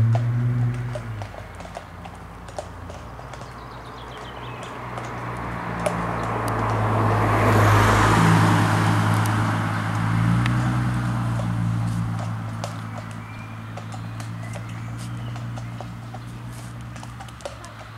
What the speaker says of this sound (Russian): Здесь есть лошади, на которых можно покататься.